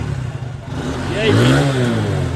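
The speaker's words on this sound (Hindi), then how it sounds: "गाड़ी का फुल साउंड आ गया है, कड़क साउंड, कड़क" A motorcycle engine revs up close after maintenance work, rising from a low idle into a swelling mid-pitched roar that holds before easing slightly, with the engine heard on its own.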